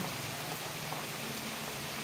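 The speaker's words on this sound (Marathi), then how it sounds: "आमच्या एरियामध्ये पाऊस झाला दोन तीन तास पाऊस" Steady rain pours down in a residential area during a long shower, a dense, even hiss of drops on surfaces with no gaps and no voices.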